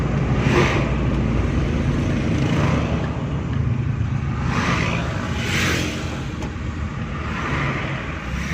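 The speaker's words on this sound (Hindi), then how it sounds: "कोई गाड़ी ने झटका नहीं लिया, बंद नहीं हुई, बिल्कुल प्रॉपर अपनी स्पीड से चल रही है" A car running steadily without its fuel pump while turning on a road, a continuous engine and tyre rumble with passing whooshes of traffic, loud and close, no talking.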